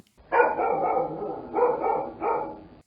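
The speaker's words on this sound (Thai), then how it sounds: "สาวใหญ่สะดุ้งกับเสียงหมาเห่า" A dog barks in three long, rough bursts, close and loud, with short gaps between them.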